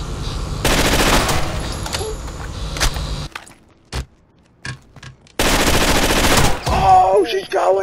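Rapid automatic gunfire in a multiplayer shooting video game, loud dense bursts filling the first few seconds, a short lull with a few isolated shots, then another heavy burst with a voice talking over it.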